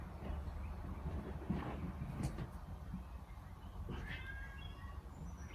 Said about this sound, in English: My cats are biting, y'all. I'm sorry.